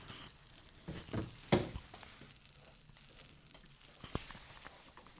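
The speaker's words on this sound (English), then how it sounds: "You can hear it sizzle" Freshly baked pizza focaccia topped with onion, serrano pepper, pepperoni, mozzarella and marinara sizzles softly just out of the oven, a faint crackling hiss with a few louder pops near the start.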